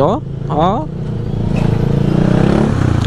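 A motorcycle engine chugs in a low, rapid, pulsing idle, its shaky rhythm growing steadier and closer after a man's brief exclamations at the start.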